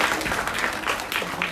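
A crowd at a primary school event claps for a gift presentation, with brief, dense applause filling the whole moment at close range.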